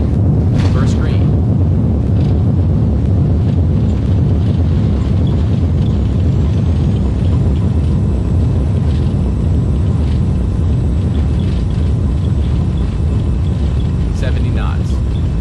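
An Airbus A320neo in the X-Plane flight simulator rolling out after landing with spoilers deployed, producing a continuous heavy rumble of engines and runway roll that stays loud throughout.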